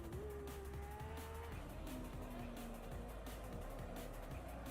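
Race car in the Assetto Corsa video game trailer, engine note climbing and dropping through gear changes with sustained tire squeal, fairly faint and steady throughout.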